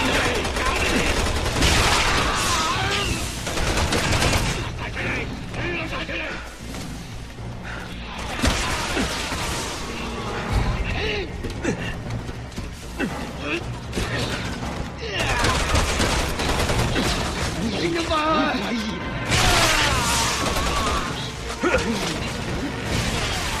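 Dense, loud gunfire rattles almost continuously in the Resident Evil 6 video game, with bursts of automatic fire and crashes that dip briefly and then return, while voices speak amid the shooting.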